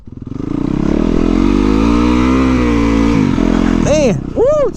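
An MV Agusta motorcycle ridden off-road on a muddy, leaf-covered trail: a loud, close engine holds a steady roar, dips briefly, then revs up sharply twice near the end.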